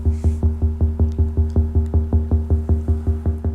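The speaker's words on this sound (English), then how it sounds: "If I take that same sequence and hook that over to the Volca Drum, it sounds like this." A Korg Volca Drum driven by MIDI plays a steady, metronome-like pulse: evenly spaced, resonant low thumps with a tonal ring, about five per second, loud and alone.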